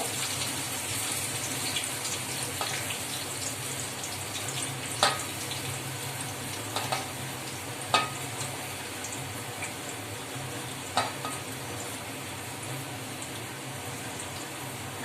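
Chopped onions and green chillies fry in hot oil for an egg fry, a steady soft sizzle with a few sharp crackles and pops rising above it, no talking.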